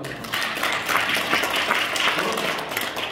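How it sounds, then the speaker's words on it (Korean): An audience claps together at a political workshop talk in Korea, a dense steady patter of many hands filling the room for about three seconds. "박수 한번 칩시다."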